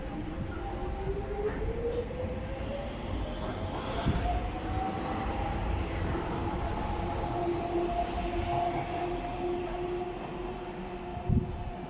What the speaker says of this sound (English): And off goes the DLR to Bank.